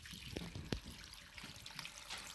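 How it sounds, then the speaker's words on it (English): Water is poured into a stock pot holding beef bones and bay leaves for bone broth, a soft, steady trickling and splashing with a few sharper knocks, close and fairly quiet. "then we are going to add our water"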